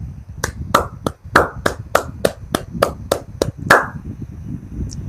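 One person claps their hands about a dozen times in a steady rhythm, sharp and close, with a faint background hum and no voices.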